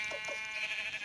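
Sheep bleating in a video game, a couple of short nasal bleats close by over a steady bright game background tone.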